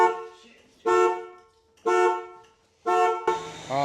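An old budget car's anti-theft alarm sounding through its horn: three loud, evenly spaced honks about a second apart, then a fourth blast overlapped by a brief voice.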